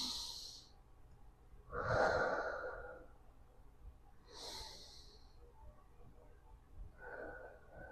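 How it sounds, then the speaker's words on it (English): Slow, deep breaths pushed out through the mouth, three or four soft airy exhales spaced a couple of seconds apart, close and quiet with no talking. "In through the nose, exhale through your mouth."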